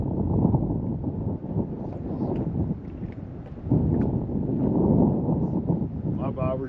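Wind buffets a GoPro microphone fitted with a mod kit while fishing for crappie on a river, a loud low rumble that gusts and rises in waves across the clip, with speech-like sounds mixed in.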